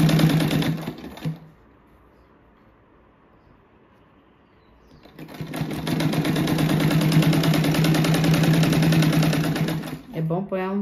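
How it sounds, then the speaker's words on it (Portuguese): A sewing machine runs a seam over bias tape on a tulip-shaped rug with pointed edges, whirring loudly and steadily in two stretches, a short burst at the start and a longer sustained run later, with a quiet pause between. "vou passar a costura mais ou menos em cima do viés aqui"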